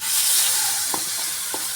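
Brinjal chutney with dried red chillies, asafoetida and curry leaves gets stirred in a hot pan, a steady hissing sizzle with a few soft scraping strokes of the spoon.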